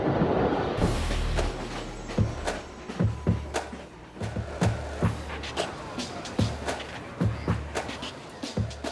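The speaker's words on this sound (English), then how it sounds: "Trains cover this first 20-kilometer section at an average of over 60 miles an hour." A Paris express metro train runs fast on its rails at over 60 miles an hour, with a close, steady rumble and a regular clickety-clack of wheels over the rail joints, plus a few sharp metallic squeals.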